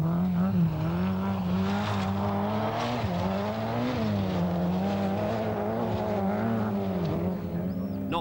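Colin McRae's Vauxhall Nova rally car driven hard at Knockhill in the 1988 Scottish Rally, its engine note rising and dipping steadily through gear changes and throttle lifts, loud and close for several seconds with no talking.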